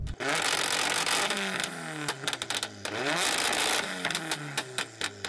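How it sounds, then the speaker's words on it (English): A four-cylinder Nissan SR20 car engine revs up close, rising and falling in pitch through several sharp throttle blips, loud and raspy. "Let's have a listen to what your four cylinder sounds like. Can you rev it up?"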